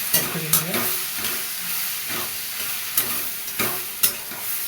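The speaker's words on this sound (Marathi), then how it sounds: "कांदा टोमॅटोला चांगलं परतू द्यायचं" Onion and tomato stir-frying with homemade masala in a pan, a continuous close sizzle broken by scraping strokes of a spatula every second or so, with no voices.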